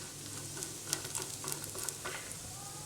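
Food frying gently over low heat in a home frying pan, a steady soft sizzle with occasional faint crackles and light stirring scrapes, close and continuous without speech.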